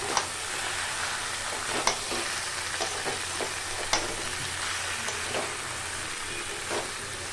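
Sliced snake gourd sizzles steadily in hot oil with ground coriander and cumin, close and continuous, with occasional sharp clicks and scrapes of a spoon stirring in the pan.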